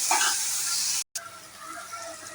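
Onions and green chillies frying in a hot pan after green gram has popped, giving a steady bright sizzle that cuts out briefly and resumes softer, close and alone.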